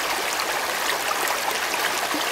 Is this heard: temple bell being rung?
no